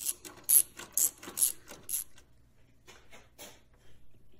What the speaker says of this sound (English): I get my ratchet out and just tighten them down